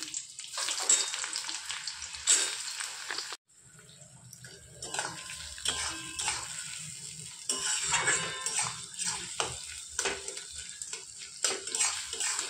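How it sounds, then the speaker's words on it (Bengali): Onions frying in a pan with panch phoron and sugar for mutton curry, a loud hissing sizzle that briefly cuts out, then returns with steady crackling and occasional stirring clatter, close up with no voices. "পেঁয়াজটা ভালো করে ভেজে নেব।"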